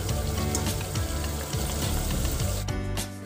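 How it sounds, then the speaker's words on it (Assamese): Chicken pieces fry over a high flame in a pan for corn rice biryani, giving a dense, close sizzle with crackling bursts and stirring clatter, briefly dropping off near the end. "এতিয়া মাংসখিনি মই হাই ফ্লেমতে ভাজি আছিলোঁ"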